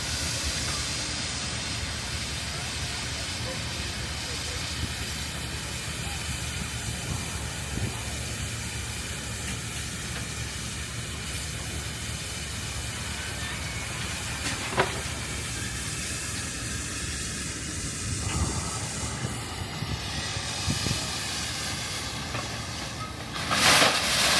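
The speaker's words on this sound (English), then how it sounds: "Got steam relief valves, 2 of them there." A steady, loud hiss of steam escapes from the two relief valves on a steam engine at a farm park, continuous for the whole stretch with faint mechanical sounds in the background.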